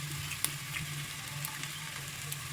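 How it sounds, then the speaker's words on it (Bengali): An egg frying in a hot pan gives a steady, close crackling sizzle with a few sharp pops, heard alone without talk. "ডিম ভাজা"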